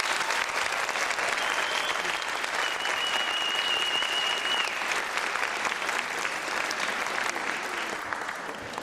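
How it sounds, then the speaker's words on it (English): Audience at a university Diwali show applauds in a sustained, dense burst of clapping that fills the hall, slightly distant, holding steady before tapering at the end. "I'd like to applaud the effort of the New Mexico State University students who put together this Roshini show year after year after."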